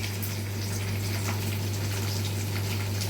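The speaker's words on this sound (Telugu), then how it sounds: "అయిపోయిందండి, పోపు వేగిపోయింది." Tempering spices frying in hot oil for a cabbage coconut fry give a steady, close crackling sizzle over a constant low hum, with no voices.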